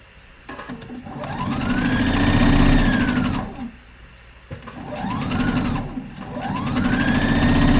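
A sewing machine runs in bursts while stitching a shoulder seam on a boxy top, with rising and falling motor whine, a brief pause between runs, close and loud.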